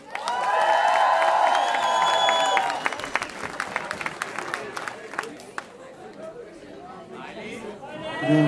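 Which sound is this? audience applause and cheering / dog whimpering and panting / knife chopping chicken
audience applause and cheering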